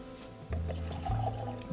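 Elijah Craig 107 bourbon poured into a glass, a short steady trickle of liquid running close and fairly quiet for under two seconds, with no talking.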